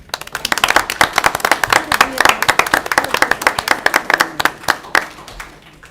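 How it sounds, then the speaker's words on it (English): A small audience at a city commissioners meeting claps for first responders, close and loud with distinct individual hand claps in a quick, uneven patter that fades toward the end. "Let's give a round of applause."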